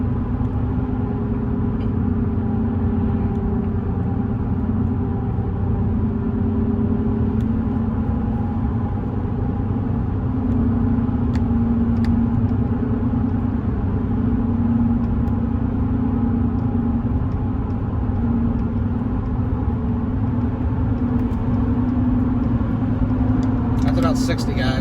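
A Toyota Tundra on Nitto Exo Grappler AWT tires with 48,000 miles rolls down a country road, a steady low engine and road rumble with droning tire hum from inside the cab, continuous throughout.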